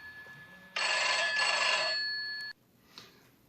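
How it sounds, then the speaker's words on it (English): A telephone rings with an incoming call, one loud electronic ring burst lasting almost two seconds, then a faint short follow-up tone in an otherwise quiet room. "Phone call. Hang on a sec."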